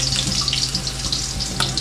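Caldereta with garlic sizzling and frying in a pan, a steady close crackle throughout with no talking.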